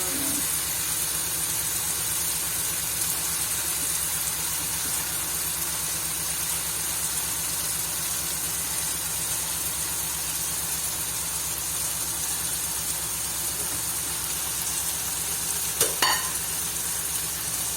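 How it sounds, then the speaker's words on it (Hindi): Stuffed tinda gourds fry in hot, oily masala in a pan, giving a steady, dense sizzle that holds evenly throughout with faint stirring, and a brief clatter near the end. "अब ये जो टिंडे हैं ये मैं इसके अंदर ऐड कर दूँगी।"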